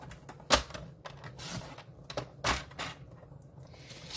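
A paper trimmer slices through cardstock in a few short, sharp scraping strokes with brief pauses between them, close and fairly quiet.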